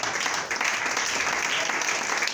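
A church congregation claps and cheers in praise of Jesus during a Christian sermon, a dense, steady roar of applause from many hands filling the room without a break.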